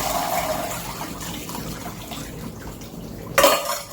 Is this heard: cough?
no